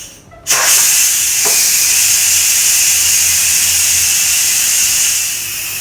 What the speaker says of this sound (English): I'll just release the pressure from the pot so that I can easily remove the cover